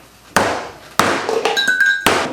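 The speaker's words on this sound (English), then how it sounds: "now it's hammer time" A hammer strikes cooled beef bones being cracked open for broth, four sharp, loud, close blows spaced about half a second apart, with brief ringing clinks between them.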